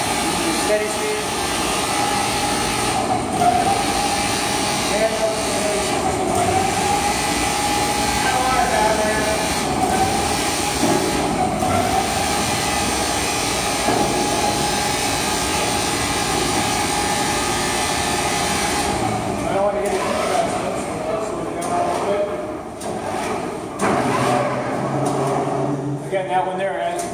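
An overhead crane carriage travels along its rails at slow and steady speeds, giving off a continuous loud mechanical hum and rumble with a persistent tonal whine that holds steady for the whole stretch, shifting slightly in character near the end.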